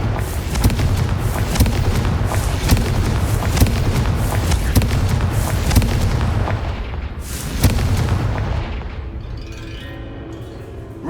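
Confringo fire-spell blasts in the video game Hogwarts Legacy: a loud, continuous barrage of booming explosive impacts with sharp cracks, easing off near the end.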